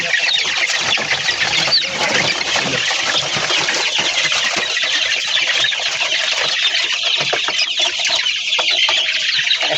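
A crowd of chickens clucks and squawks continuously, dense and close, with a faint engine hum underneath.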